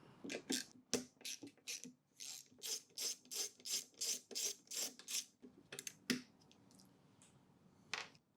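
An 8mm socket ratchet undoing the air filter backing plate nuts on a Honda blower, a quick run of regular rasping clicks at close range, then a few isolated clicks and light handling noises.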